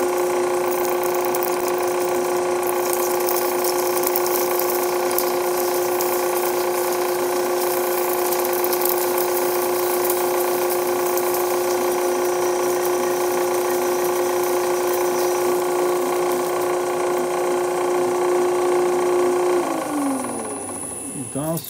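A metal lathe drills hard stock from the tailstock with a one-inch drill, giving a loud, steady mechanical hum and whine that holds throughout before winding down near the end.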